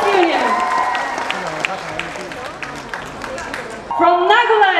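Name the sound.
audience applause after student union performance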